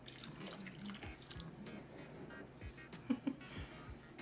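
Water running and splashing into a pot for potato soup, a nearby trickle with drips and a couple of louder splashes toward the end, no talking.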